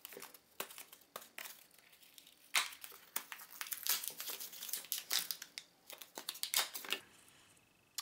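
Crinkling and tearing of packaging as a boxed makeup compact with a built-in mirror is unwrapped, a close, quiet run of irregular rustles, crackles and snaps with no voices.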